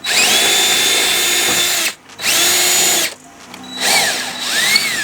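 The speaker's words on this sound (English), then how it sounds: "I'm just going to drill a hole right smack dab in the center." A power drill whines loudly in three bursts, with short pauses between, grinding close up as it bores into a Chevy Express van panel.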